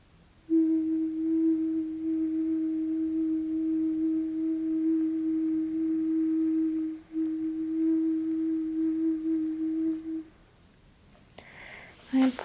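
A steady low resonant tone from a balancing stone sounds in a quiet setting, sustained for several seconds with a brief dip partway, then fades, followed by faint rustling.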